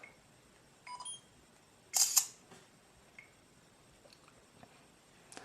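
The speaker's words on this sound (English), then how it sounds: "there are various shutter sounds that you can have" Camera shutter sounds on a Verizon Samsung Droid Charge phone, a few short clicks and beeps with one louder snapping burst in the middle, close and otherwise quiet.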